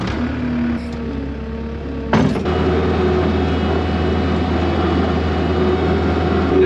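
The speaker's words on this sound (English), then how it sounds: "Now this skid steer loader" A skid steer loader runs during a potato harvest, its engine a steady loud low drone with a sharp clunk partway through before the motor settles back into a constant hum.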